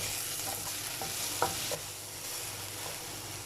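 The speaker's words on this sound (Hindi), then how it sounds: "चिकन जो है वो बहुत अच्छे से देखिए फ्राई हो रहा है।" Chicken for buffalo chicken sandwich filler frying in a pan, a continuous close sizzle with a few light clicks and scrapes from stirring.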